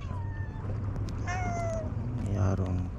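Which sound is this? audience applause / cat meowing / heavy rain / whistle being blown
cat meowing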